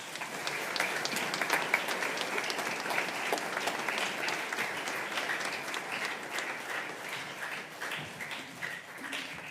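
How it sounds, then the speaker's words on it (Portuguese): A church congregation at a Sunday Mass breaks into sustained applause, a dense steady wash of many hands clapping throughout, moderately loud and without speech. "A estes bem-aventurados damos uma grande salva de palmas."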